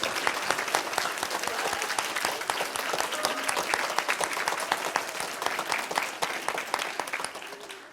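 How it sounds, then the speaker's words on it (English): A school audience at a lower school winter closing applauds the music teachers, with dense, continuous clapping from many hands, even and sustained throughout. "let's give our teachers a big round of applause"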